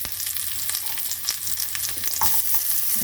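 Beef fries in a little oil with a constant close sizzle, broken by occasional stirring scrapes and clinks, no one speaking.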